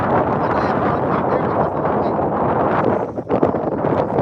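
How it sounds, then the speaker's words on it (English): Strong wind roars steadily across the microphone during late-night fishing, a loud continuous buffeting rush with brief gusty dips near the end and no voices. "That wind is going hard."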